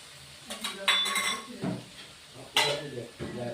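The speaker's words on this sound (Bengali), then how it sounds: "এবার মশলাটা আমি একটু কষিয়ে নেব" Spice paste stirred and sautéed in a pan for a Bengali charapona fish posto dish, with a few scraping clinks of a spoon against the pan over a soft sizzle, close and moderately loud.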